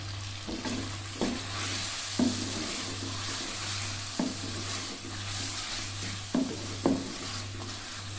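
Masala with crushed kasuri methi fries in a pot for Hyderabadi bhindi gosht, giving a continuous close sizzle. Several scraping stirs break in at irregular intervals, and a low steady hum runs underneath.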